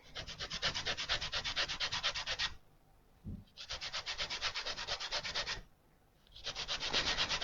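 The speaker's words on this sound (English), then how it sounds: "So I'm just going to grate that zest." Lemon zest is rubbed over a grater onto flour in rhythmic rasping strokes, three bursts of steady scraping separated by short pauses, close and clear.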